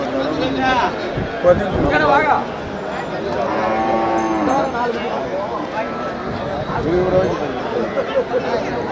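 Cattle at Melapalayam cattle market, with lowing and moos mixed into steady crowd chatter, and people talking close by throughout.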